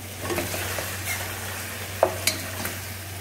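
Beef paya frying and being stirred on medium flame, a steady low sizzle with a constant hum beneath and a few sharp scrapes and clinks of the spoon near the end, no voices.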